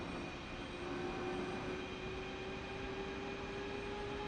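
Jet engines in a DCS flight simulator game spool up together in a steady, even whine with a low rumble underneath, holding constant with no voices.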